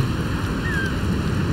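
Steady wind blows across an open climbing area in the video game Jusant, a constant full rushing roar with no breaks and a faint whistle riding on top.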